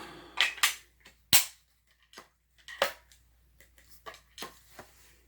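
A Turkish side-by-side shotgun is reassembled after cleaning, with the barrels locked down and the fore end snapped on: a few loud, sharp metallic clacks and clicks up close, followed by softer scattered handling taps.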